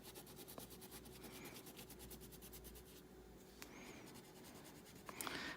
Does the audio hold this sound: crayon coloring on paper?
yes